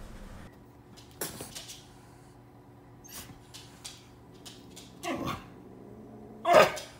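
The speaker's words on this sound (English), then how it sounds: "No, Luna, no barking." A dog barks and yips indoors in short sharp bursts spaced across a quiet room, with the last bark the loudest and closest.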